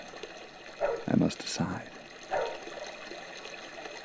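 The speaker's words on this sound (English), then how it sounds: "The water rises all around me." River water sound effect in a Gingerbread Man sound play, set as the character is carried across the river: a steady wash of water runs under a narrator's voice.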